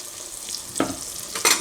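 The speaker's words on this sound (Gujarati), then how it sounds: "આ બધું મિક્સ કરી લઉં એમાં તેલમાં શેકાઈ જાય બધો મસાલો" Masala and crushed peanuts roast in oil for a brinjal and potato gravy curry, making a faint sizzle with two quick spoon scrapes near the end.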